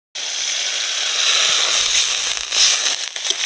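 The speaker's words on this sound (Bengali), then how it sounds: "মশলাটা ভালোভাবে কষা হয়ে গেছে। এবার দিয়ে দেবো জল" Water poured onto hot spices fried in oil for a banana-flower kofta curry bursts into a loud, crackling sizzle that starts abruptly and keeps spitting and popping throughout.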